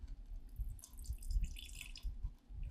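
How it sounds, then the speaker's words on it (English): Liquid poured in a thin trickle from a crusty aging barrel, dripping and splashing faintly at close range with a low background rumble, no talk. "pour a tiny bit of this out just so I can taste it"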